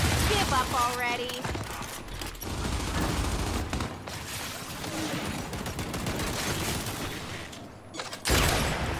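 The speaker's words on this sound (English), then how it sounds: "now I'm just shooting for joy here" Rapid bursts of automatic gunfire from the video game Gears of War on PC, loud and nearly continuous with dense overlapping shots, with a voice talking over the shooting.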